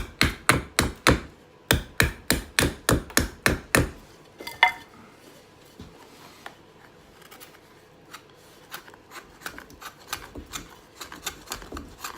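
A Condor mini parang chops in a fast, even run of about a dozen sharp, loud thwacks, then quieter scattered knocks and scraping follow, with no talking.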